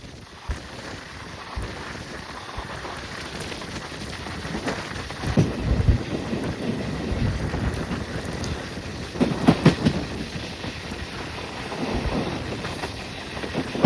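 A passenger train runs from Bengaluru toward Mysuru, its steady rumble and clatter filling the whole stretch with louder surges near the middle and end, heard up close from on board.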